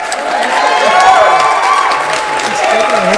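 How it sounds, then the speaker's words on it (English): A live audience at a comic shop gives a round of applause, clapping blended with loud cheering and whooping voices, a dense, close crowd sound that stays steady throughout. "Let's give him a round of applause."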